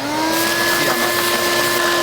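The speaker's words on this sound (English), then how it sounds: "I'm gonna vacuum before I rinse it off, just so I don't make a huge mess in the yard." A vacuum cleaner sucks salt off a windsurf board deck in a yard, a loud, steady motor drone with a constant high whine and no pauses.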